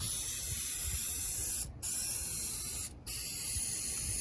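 Adhesive sprays in a continuous loud hiss onto a truck headliner backing board, broken by two brief pauses as the nozzle is released and pressed again.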